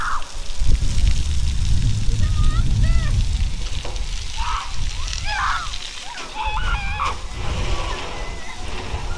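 Water sprays and splashes in rushing bursts at a small water park, with voices and shouts of people playing nearby mixed in.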